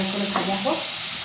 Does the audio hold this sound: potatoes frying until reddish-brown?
yes